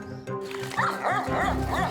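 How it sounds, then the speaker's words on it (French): Dogs at a dog-breeding kennel in a village in Abzac, Gironde, bark repeatedly in quick, overlapping yaps with some whining, fairly close and loud over a steady low hum. "Aboiement de jour et de nuit, insalubrité."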